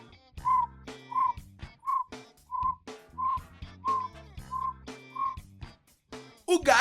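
A human voice imitates a cricket's chirp with a series of about nine short, evenly spaced whistled chirps, close and fairly loud, with no talk between them and a louder burst at the very end.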